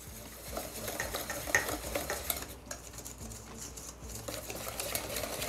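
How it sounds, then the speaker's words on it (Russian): Wire whisk stirring wheat flour into milk in a bowl for a custard cream, a steady busy scraping and tapping texture with small clinks, close and continuous, no voices. "Все это нам нужно перемешать венчиком"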